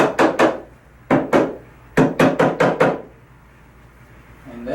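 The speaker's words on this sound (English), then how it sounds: "I'm going to use the mallet." A mallet taps wooden parts of a frameless drawer base cabinet during assembly, sharp knocks in three quick bursts of two, three and five blows, close and loud with quiet pauses between.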